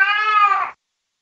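A cat gives a single drawn-out, close meow lasting under a second, loud and clear, then silence.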